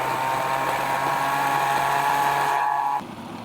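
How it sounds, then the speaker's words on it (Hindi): Electric grinder whirring steadily as it blends onion with water, a loud continuous motor drone that cuts off abruptly near the end, with no talk. "इसको थोड़ा सा पानी डालते हैं। उसके बाद इसको हम ग्राइंड कर लेते हैं।"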